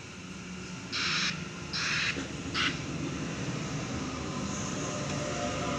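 A passenger train pulls into platform 2 at Waverton station, a steady low rumble of wheels and traction with a few brief bright squeal bursts early on as it slows, heard from the platform without talk.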